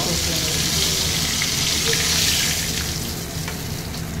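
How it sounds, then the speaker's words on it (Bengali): Bay leaf and nigella seeds sizzling in hot oil, a steady close hiss and crackle held evenly throughout with no break. "আমি এখন এই তেলে তেজপাতার একটু ফোড়ন দিয়ে, একটু কালো জিরে ফোড়ন দিয়ে এখন ভালো করে নাড়িয়ে"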